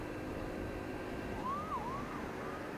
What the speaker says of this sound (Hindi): Make way for ambulance here as well.